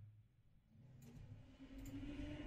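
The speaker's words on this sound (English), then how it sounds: "car going by" A car passes outside, its engine rumble swelling gradually from faint to closer across the stretch, heard indoors with no speech.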